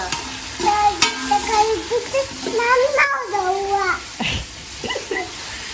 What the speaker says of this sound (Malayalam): തക്കാളി ഇട്ടിട്ട് നന്നായി ഇളക്കുക